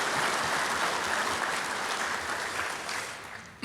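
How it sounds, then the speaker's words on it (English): An audience at a Dairyland Power annual meeting applauds the team, a dense sustained round of clapping from a large crowd that holds steady and then begins to taper near the end. "let's give those folks a round of applause"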